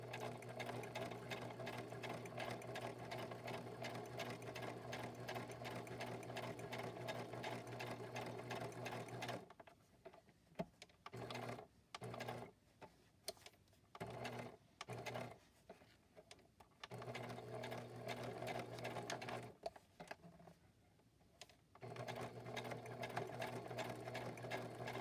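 A sewing machine stitches library pockets made from wallpaper, running in a steady close drone, then breaking into short stop-start bursts while turning a corner before resuming a continuous run.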